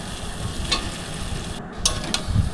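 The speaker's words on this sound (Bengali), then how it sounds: "এবারে আমি আলুগুলোকে ধীরে ধীরে দিয়ে দেবো মশলার সাথে ভাজা হওয়ার জন্য।" Potatoes fry in spices for an egg curry with a soft, continuous sizzle, broken by a few sharp clicks and scrapes from stirring in the pan.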